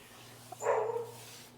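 A dog gives a single short bark somewhere off in a back laneway, faint and distant over a low steady hum, with no voices.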